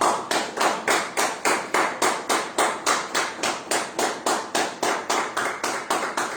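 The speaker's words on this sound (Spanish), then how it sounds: "¿Y por qué no le damos un fuerte aplauso a Jesucristo?" A church congregation claps in unison, giving a quick, even run of loud, sharp claps that keeps a steady rhythm for several seconds with no talking.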